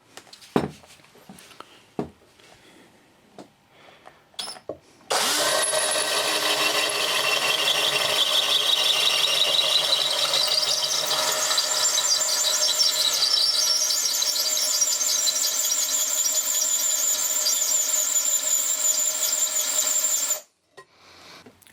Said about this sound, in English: Once you've got started, you can then lift the drill upright and then drill through the tile.